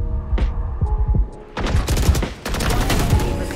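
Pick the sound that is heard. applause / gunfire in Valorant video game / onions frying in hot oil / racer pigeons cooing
gunfire in Valorant video game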